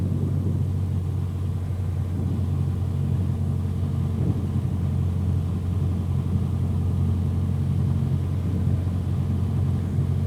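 A light training airplane engine drones steadily while the plane floats just above the runway on landing. The low, even hum runs unbroken with no talking.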